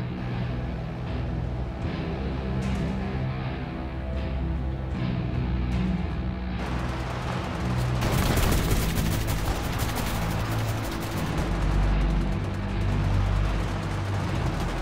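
Firefight in a realistic tactical shooter game, with a dull rumbling backdrop breaking into loud, dense bursts of rapid gunfire and machine-gun volleys that keep crackling for several seconds.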